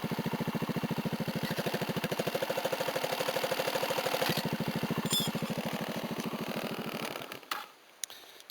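A Honda SH150i-6 scooter idles with a Yasuni TUB-650 silencer insert fitted, giving a quiet, rapid, steady putter from the exhaust that runs evenly for several seconds before dying away near the end.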